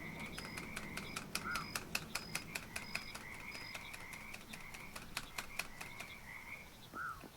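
Frog ribbits from the video game Froggy Fridays, a rapid run of clicky croaks repeating at a steady rhythm, with a couple of brief squeaky calls mixed in, heard without talk.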